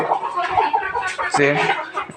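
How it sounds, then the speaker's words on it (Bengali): Broody hens clucking in short, low, throaty bursts close by, a few overlapping calls in quick succession. "আর এই যে আমার যে কুইচা মুরগিগুলো আছে"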